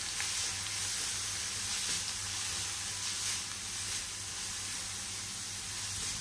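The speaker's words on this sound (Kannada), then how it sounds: "ಈರುಳ್ಳಿ ಆ್ಯಂಡ್ ಕರಿಬೇವಿನ ಸೊಪ್ಪು ಸ್ವಲ್ಪ ಹಾಕ್ಕೊಂಡು ಇದನ್ನು ಚೆನ್ನಾಗಿ ಫ್ರೈ ಮಾಡ್ತೀನಿ" Onions and curry leaves fry in a pan with a steady, close sizzle that holds an even hiss throughout, with no pauses and no talking.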